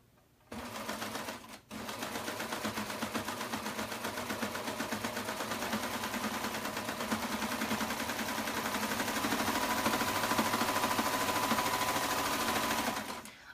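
Serger sewing machine feeding fabric with elastic, running in a fast, steady mechanical whir that continues for about twelve seconds after a brief start and stop, close and alone.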